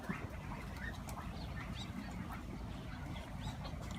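Dense outdoor bird noise on a duck farm with scattered quacks over a constant rumbling background, a busy flock heard at a distance.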